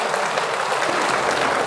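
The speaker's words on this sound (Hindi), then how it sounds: "अरे ताली तो बजाओ इस बात के लिए।" Audience at a political rally on Ambedkar and Behenji claps steadily, a dense, even wash of applause close and loud for the whole short stretch with no pauses.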